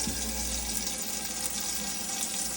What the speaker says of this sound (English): what you've just seen there is the water coming through the tap absolutely perfectly